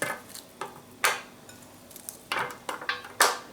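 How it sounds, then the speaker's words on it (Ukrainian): Sliced onion is laid piece by piece onto oil in a baking form, a bed for crucian carp, making a handful of close, sharp clattering taps at irregular intervals over quiet room tone. "На олію викладаємо цибульку"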